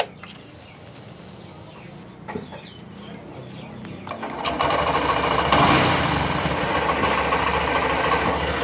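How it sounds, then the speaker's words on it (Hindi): A Honda Shine motorcycle engine with a newly fitted fuel filter starts after a few clicks and clunks, then settles into a loud, steady, close idle. "तो बाइक हो चुकी है स्टार्ट।"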